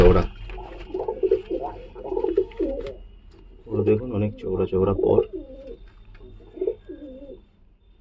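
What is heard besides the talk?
pigeons cooing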